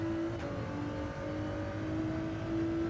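A Ford race car engine in Gran Turismo 7 holds a steady, fairly loud droning note with a brief shift in pitch near the start, continuous and without speech.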